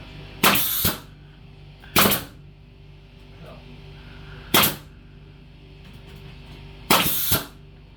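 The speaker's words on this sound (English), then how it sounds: "don't let the nail gun go out when you're when you're right there at the end" A nail gun driving nails into tongue and groove wall boards in a laundry room, four sharp, loud shots at irregular intervals, each with a short rattling tail, over a quiet room hum.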